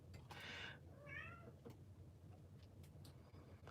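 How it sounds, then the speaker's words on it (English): A kitten meows once, a short rising-falling cry, indoors in a craft room with steady low background noise and faint rustling around it. "She's just a kitten, and she loves to be in here for whatever reason."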